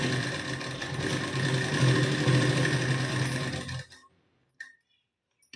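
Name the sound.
sewing machine stitching blouse back tucks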